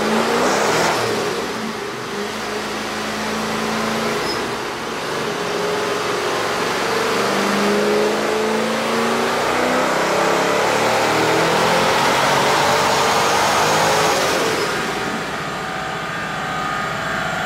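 A supercharged Corvette accelerates hard from about 2,500 to 6,500 rpm, its engine roaring loud and close as the revs climb steadily through one long pull, then easing off near the end.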